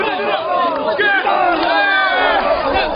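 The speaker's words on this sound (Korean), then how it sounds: "씨름하는 사내들의 팽팽한 움직임과 환호하는 구경꾼들" Spectators at a ssireum wrestling match shout and cheer together, a loud, continuous crowd roar of overlapping voices with rising and falling yells throughout.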